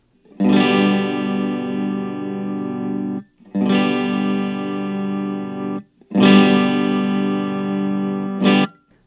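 Harley Benton ST-JAMster electric guitar played through its built-in gain effect on the clean setting: three sustained, distorted chords, each ringing for about two and a half seconds before a short gap, loud and alone with no talking.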